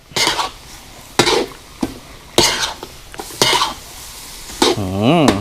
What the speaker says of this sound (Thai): คนคลุกเคล้าให้ใบกะเพราสลดครับ